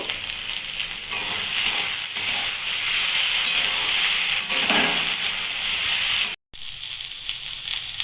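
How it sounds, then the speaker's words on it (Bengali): Boiled ivy gourd (kundri) frying in a pan in a village kitchen, a steady close sizzle with brief stirring scrapes, broken by a sudden short silence near the end before the frying resumes. "কুন্দ্রি সেদ্ধ হয়ে গেছে এবার ভালো করে লাল করে ভেজে নেব"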